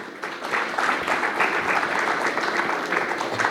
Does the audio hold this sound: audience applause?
yes